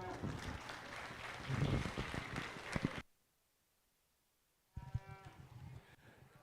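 Cattle at a junior heifer livestock show, with loud moos and crowd noise filling the first three seconds, a brief silence, then more lowing and background voices in the arena.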